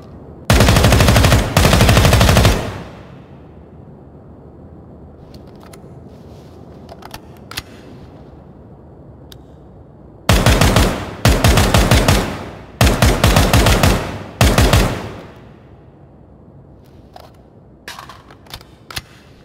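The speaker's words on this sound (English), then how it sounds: "Let's move on to the next gun here, which is the MK17 SCAR CQC version." Bursts of automatic fire from an MK17 SCAR CQC rifle in the tactical shooter Ground Branch, loud and close, with one long burst at the start, then four rapid bursts later and a few faint single clicks between.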